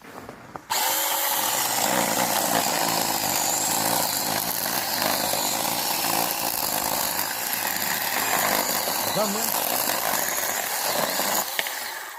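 Bosch mini chainsaw cutting ordinary wood outdoors in the cold, a loud sustained buzzing motor whine starting suddenly and running steadily throughout, close by with slight strain variations as it bites.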